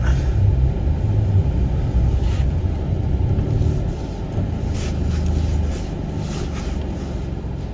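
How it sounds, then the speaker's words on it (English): Steady low engine rumble of a car rolling slowly into a garage shop, a constant droning hum with faint background clatter, fairly close. "Alright, pulling back into the shop."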